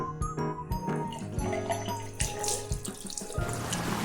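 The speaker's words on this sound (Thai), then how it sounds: "หลังจากที่เราเช็ดเสร็จเรียบร้อยแล้วนะครับ ล้างน้ำเปล่าสักรอบหนึ่ง" Tap water runs into a sink while a face is rinsed, a close, steady splashing stream broken by repeated wet slaps of hands scooping water.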